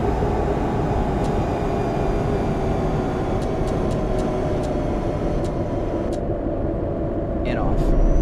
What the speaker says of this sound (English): You'll hear the retarder going.